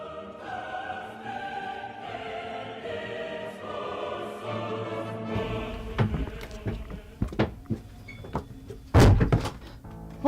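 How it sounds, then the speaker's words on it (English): Door slamming inside a house during a staged ghost-hunt scene: several sharp thuds and bangs, the loudest near the end, follow a stretch of music-like tonal sound. "Don't slam doors in the house."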